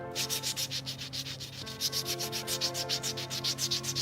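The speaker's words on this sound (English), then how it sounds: "Well, I can show you abrasion." A surface is rubbed back and forth to wear away material, producing steady, regular abrasive scraping strokes, close and fairly loud, with a constant mechanical hum underneath and no voices.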